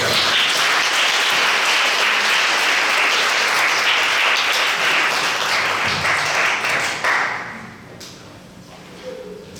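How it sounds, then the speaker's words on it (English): Audience applause at a poetry showcase, a loud, sustained wash of clapping filling the room for about seven seconds before dying away into quiet room sound. "another big round of applause"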